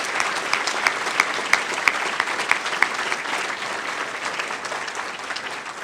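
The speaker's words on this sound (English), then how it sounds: "Let's give her a round of applause." Sustained audience applause for school principal Vera Williams-Willis at a Chicago Public Schools event, a full room clapping steadily with a few sharper individual claps standing out.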